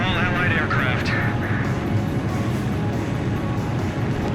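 Steady jet engine roar of fighter aircraft in Ace Combat 5, a constant loud drone beneath radio chatter from a voice speaking over it.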